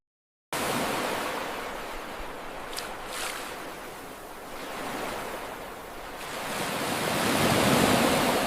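Ocean surf rolls and washes onto a beach where sea turtle hatchlings reach the water, a steady broadband roar with slow swells building louder toward the end, no voices.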